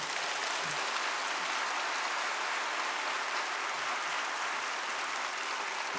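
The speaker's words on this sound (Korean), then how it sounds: "박수로 이 시간 환영해 주시기 바랍니다" Dense, steady applause from a church congregation welcoming the pastor before a worship sermon, a continuous wash of many hands clapping at an even level for the whole stretch, with no voices on top.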